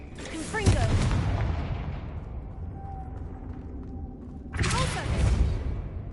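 A Confringo blasting spell bursts in the Hogwarts Legacy video game with a loud crackling blast and rumble that fades, then a second explosion erupts.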